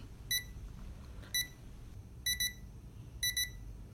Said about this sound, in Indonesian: Jadi jam akan alarm selama 1 menit